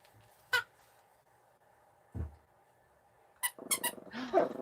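A pet cat gives a few high, squeaky meows spaced apart, followed by a rapid cluster of sharper squeaks and scuffling noises close by, with no talking.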